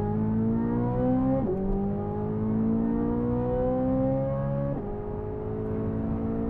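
A Chevrolet Corvette C8 Z06 engine in Sport mode revs strongly. Its loud, steady tone climbs in pitch, drops sharply at two quick shifts, and climbs again, sounding close with no talk over it.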